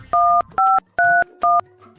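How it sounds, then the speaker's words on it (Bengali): Four short two-tone telephone keypad beeps pressed in a steady rhythm, clear and close, with brief quiet gaps between them. "বন্ধুকে একটা ফোন করি।"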